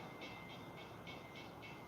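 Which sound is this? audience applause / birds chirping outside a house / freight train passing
freight train passing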